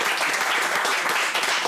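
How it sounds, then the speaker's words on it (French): Gabonese opera audition finalists applaud themselves, a dense, steady wash of clapping from a group that fills the whole short stretch at close range. "Vous pouvez vous applaudir bien fort déjà"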